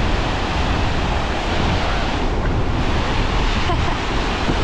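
An Icelandic waterfall roars in a dense, unbroken rush of water, loud and steady throughout, with some wind buffeting the microphone and no voices.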